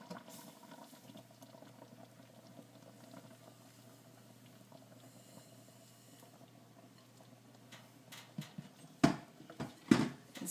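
Blackberry jam boils steadily in a pot, a soft continuous bubbling that stays low and even for most of the stretch before a few sharper knocks and clatters near the end.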